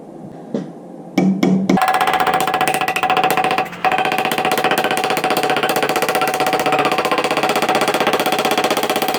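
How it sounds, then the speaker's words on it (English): A bench grinder whirs loudly and steadily, smoothing small metal pieces, after a few brief knocks at the start; the continuous grinding drone fills most of the clip with a short dip partway through. "Just going to touch those up on the bench grinder, get them nice and smooth"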